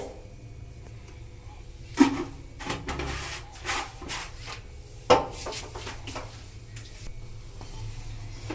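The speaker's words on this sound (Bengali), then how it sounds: "সেই বালিটা আমি ঢেলে দিচ্ছি" Used, blackened sand is poured and scraped into a metal cooking pot set up for baking cake on a gas stove, giving soft gritty rustling with a few sharp knocks and taps.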